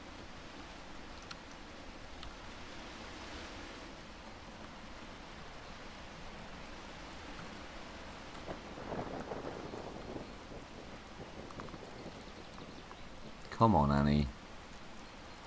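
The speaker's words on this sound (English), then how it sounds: "It's starting to rain again." Rain falls in the medieval-style game Saelig as a soft, continuous hiss with slight swells, and a short spoken phrase cuts in loudly near the end.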